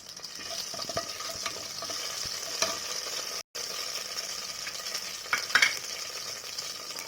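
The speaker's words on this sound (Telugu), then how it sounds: "ఆయిల్ వేడెక్కిందండి. ఇప్పుడు మనము ఒక 1 టీ స్పూన్ ఆఫ్ జీలకర్ర వేసుకున్నాను." Cumin seeds sizzling in heated oil for Chennur dum biryani, a steady soft crackling hiss with occasional brighter pops and light utensil stirring, no voices.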